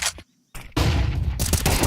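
Counter-Strike gunfire rings out in an ESL Pro League match, with dense rapid bursts of shots broken by a brief near-silent gap, loud and close.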